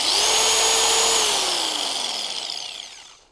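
A Lake Country UDOS 51E polisher set to a 21 mm stroke runs loud and steady with a high whine, then spins down and fades out toward the end.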